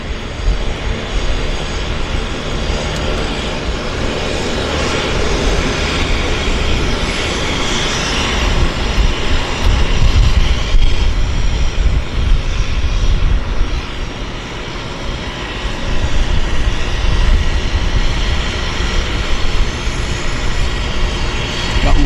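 Floatplane droning steadily overhead at a harbour floatbase airport, a loud continuous engine roar rising and easing slightly across the whole stretch with no break.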